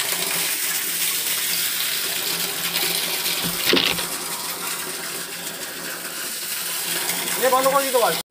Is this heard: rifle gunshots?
no